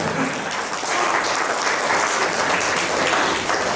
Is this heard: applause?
yes